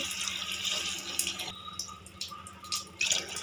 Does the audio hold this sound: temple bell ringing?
no